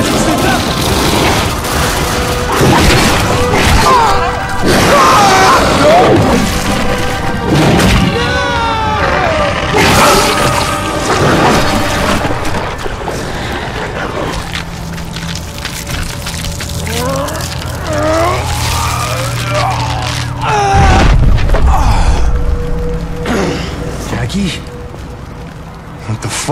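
Explosions and crashing debris from The Darkness 2 video game boom and clatter loudly and repeatedly, with dense bursts throughout, a heavy low rumble near the end, and voices talking over the chaos.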